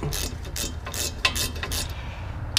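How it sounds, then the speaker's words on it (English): A ratchet tightening a bolt on a Miata brake caliper, a series of rapid close clicks in short bursts separated by brief gaps. "now just go ahead and tighten this bolt back down right here"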